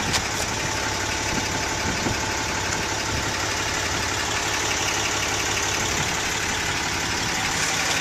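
A 2007 Dodge Ram 3500 Laramie pickup truck engine idles steadily and evenly, a continuous close mechanical hum with light ticking and no voices.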